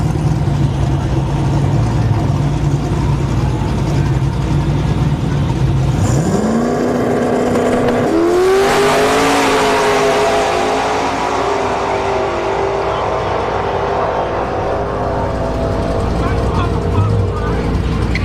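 An LS turbo G-Body drag car launches and races down the strip, its engine note rising through the gears and then fading, loud over a steady background of track noise.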